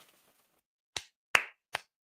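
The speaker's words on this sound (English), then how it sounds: "Clap it up for him." Three sharp, separate hand claps, close and fairly quiet, spaced a little under half a second apart after a faint murmur.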